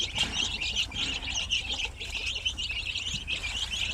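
Two-week-old chicks in a poultry pen cheep constantly in overlapping high-pitched peeps, a busy close-up chorus over a low background rumble.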